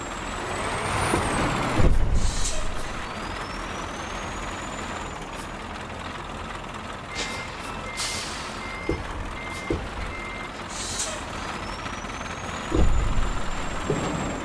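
In the American Truck Simulator video game, a truck engine drones while reversing beeps repeat and sharp air brake hisses burst out twice, all clear and close with no talking.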